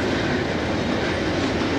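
A CSX westbound freight train passes at Huntington, West Virginia, in 1993, with a steady loud rumble and rhythmic clickety-clack of railcar wheels over the rails.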